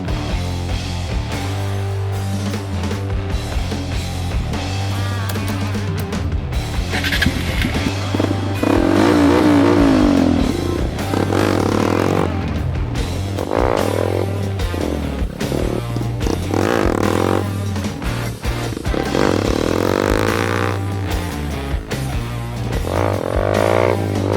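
A motorcycle bought in the Philippines revs loudly and steadily, its engine rising and falling in pitch as it is ridden through wheelies, close and continuous with no talk over it.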